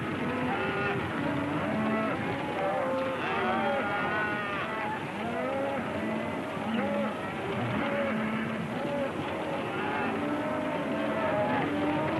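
A herd of cattle moos and lows continuously, many animals calling over one another at middle distance, with a steady background rumble beneath, from a 1937 western film.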